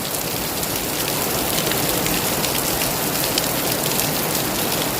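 Steady, loud rain pours down in a dense, even hiss with no pauses and no voices.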